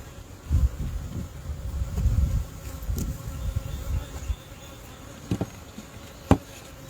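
Honey bees in a bee yard during an early spring inspection hum in a steady buzz, with some low thumps and handling knocks up close early on and a few sharp clicks later.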